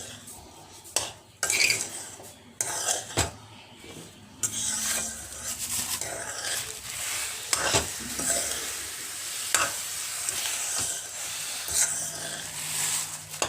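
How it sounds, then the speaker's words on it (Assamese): A spoon stirs powdered sugar into cooled semolina in a pan, with repeated scraping and clinking against the metal, uneven strokes and occasional sharper knocks, close and moderately loud. "অলপ গৰম হৈ থাকোঁতে মই চেনি পাউডাৰখিনি ইয়াত মিক্স কৰি দিছোঁ"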